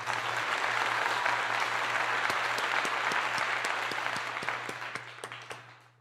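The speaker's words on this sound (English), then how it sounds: "Round of applause, right?" Sustained audience applause at a talk on capoeira and African ancestry, dense steady clapping throughout that gradually thins and fades toward the end, with a low steady hum underneath.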